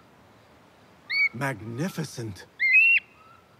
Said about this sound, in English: There's the falcon.